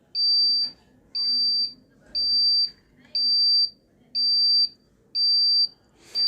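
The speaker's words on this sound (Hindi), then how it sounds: "तो अलार्म टाइम जो है करंट टाइम से जैसे ही मैच होता है तो इस तरह का अलार्म बजना शुरू होगा, बीप बजना शुरू होगा।" A homemade NodeMCU ESP8266 seven-segment internet clock sounds its alarm as loud, high-pitched electronic beeps in a steady pulsing pattern, about six bursts roughly once per second, with no talking.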